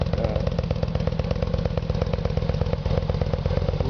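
A 2009 Yamaha 950 tourer motorcycle with about 7,100 miles runs at a steady idle, its loud, close exhaust pulsing in an even, rapid rhythm throughout.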